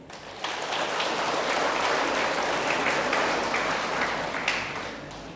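Church congregation applauds during a worship service, a sustained dense wash of clapping that builds quickly, holds steady and tapers off at the end.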